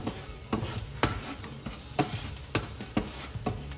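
Onions and garlic sautéing in a pan for turkey meatballs, a steady soft sizzle broken by repeated scraping stirs of a utensil at roughly half-second intervals, close and moderately loud, with no talking.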